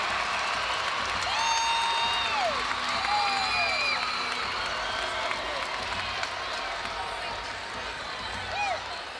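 Cheering and applause keep rolling through a college gymnastics arena at a Florida vs Georgia meet, a loud, steady crowd roar with high whistles and whoops, and a commentator speaks over it.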